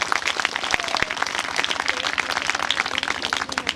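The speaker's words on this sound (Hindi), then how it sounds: "मैडम के लिए जोरदार तालियां" Dense, steady applause from a school audience in Chirkutagondhi, Pandurna Range, South Chhindwara, honouring a teacher, with many hands clapping close and loud for several seconds and a few faint voices calling out within it.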